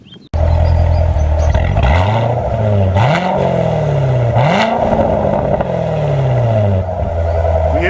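A 2014 Chevy Corvette Stingray convertible in sport or track mode revs its exhaust loudly and up close, rising and falling through several sweeping throttle blips over a steady deep idle, with no talking.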